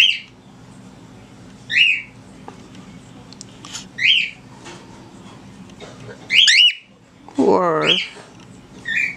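Pet birds squawk and chirp indoors in short, shrill bursts every couple of seconds, ending with a longer, louder squawk, over a low background hum.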